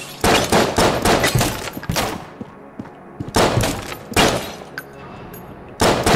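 Gunshots in Enter the Gungeon, bursts of rapid sharp shots in repeated clusters with short pauses between, loud and close.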